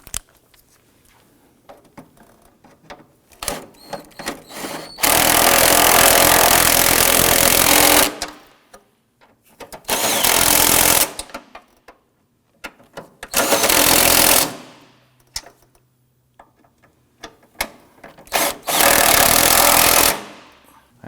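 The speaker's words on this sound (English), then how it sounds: "And we can go ahead and snug those down." A power tool runs in repeated bursts of about three seconds, separated by pauses, while snugging the base-plate nuts on a 2008-2011 Ford Focus transmission mount. The buzz is loud and close, with quiet tool handling between bursts.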